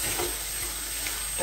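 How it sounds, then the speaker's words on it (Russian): Food stewing in a rustic frying pan fills the clip with a steady, soft sizzle and low bubbling hiss, continuous and close, with no voices. "Тушится в этой деревенской сковородке."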